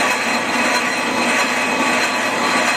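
A brake lathe machines a Willys Jeep flywheel, giving a steady, dense, continuous scraping hiss of the cutting tool on metal that holds even and loud throughout with no pauses.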